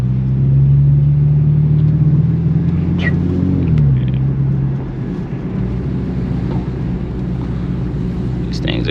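A BMW 335i twin-turbo drives along with a steady low engine drone and road rumble, its pitch sliding down midway as it eases off, heard from inside the car with a voice talking over it.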